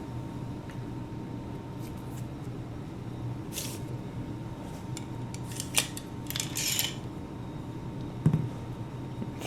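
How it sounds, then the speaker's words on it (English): A cleaning jag with a patch on a loading rod, run down the barrel of a black powder revolver, gives scattered scraping and metallic rubs and a few sharper clicks near the end, close and fairly quiet. "I'm going to run it down the barrel"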